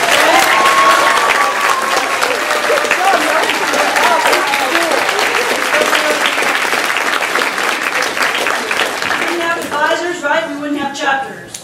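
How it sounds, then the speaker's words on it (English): A convention audience at a science and mathematics honor society closing session claps loudly for volunteer chapter advisors, sustained dense applause with voices and cheers mixed in, and talk emerging as it tapers off. "I would like for our students to, and everybody to clap for these people."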